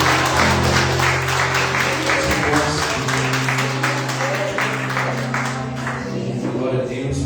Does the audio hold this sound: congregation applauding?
yes